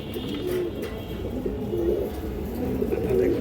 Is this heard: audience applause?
no